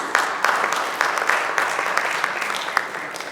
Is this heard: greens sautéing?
no